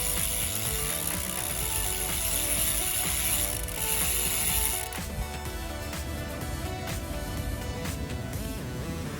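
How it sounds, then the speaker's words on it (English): A bicycle chain runs back through a rag with continuous ratcheting clicks from the freewheel, close and steady, easing slightly partway through, with no talk. "I'm gonna run my chain back through it a few times."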